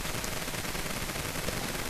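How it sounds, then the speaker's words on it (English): Musket fire from cavalry units in a Total War: Shogun 2 battle, a dense, continuous crackle of overlapping gunshots blending into loud battlefield noise with no pauses. "my cavalry is literally firing"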